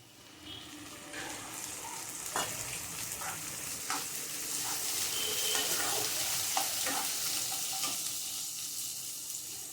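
Chopped tomato sizzles in a pan with ground spinach and green chili paste, a steady frying hiss that swells slightly midway, broken by scattered clicks and scrapes of stirring, with no voices.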